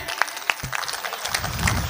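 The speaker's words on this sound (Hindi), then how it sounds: "एक बार तालियां बजा के।" Audience applause at a Hindi humorous poetry gathering, a brisk spatter of claps with a few sharp individual hand strikes standing out over a steady wash, swelling slightly toward the end.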